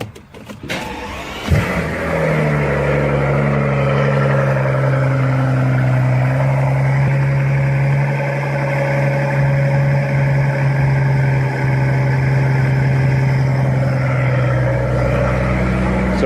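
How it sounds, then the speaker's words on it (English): A car with mufflers cold starts with a brief crank and catch, then settles into a loud, steady, rumbling idle for the rest of the stretch. "So I'm going to show you guys a cold start now with mufflers."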